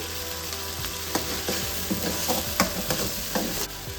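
Onion and tomato paste sizzles steadily in a hot pan with turmeric for a spicy kurma, with a few scraping stirs and clinks of a spoon against the pan, close and fairly loud with no talking.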